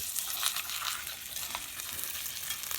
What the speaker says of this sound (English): our skillet is red hot and we're ready for the sear